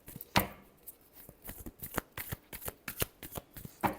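Tarot cards are shuffled by hand, close and soft, giving a quick uneven run of light riffling slaps and taps with no talking.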